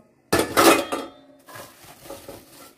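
A metal kadai and frying pan are handled, giving a loud clatter as they knock together, then lighter rattles and clinks fading off, with no voices.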